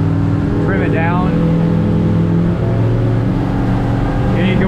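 A 1988 Larson 20-foot center-console boat with a 115 four-stroke outboard runs steadily on the water, a loud constant engine drone with wind and water noise, and brief voice-like sounds over it.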